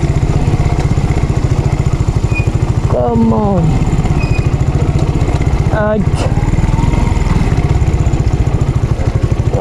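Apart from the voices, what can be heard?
motorcycle engine riding through water on road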